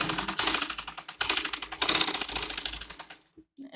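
A sewing machine stitches a chanderi salwar in fast, even bursts of rattling needle strokes, close and loud, pausing briefly once before running again and then stopping with a soft click at the end.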